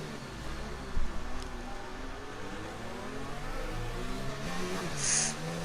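A Formula One car with a damaged gearbox runs through Monaco in a racing game, its engine holding a steady, droning whine with a brief bump early on and a sharper rise near the end.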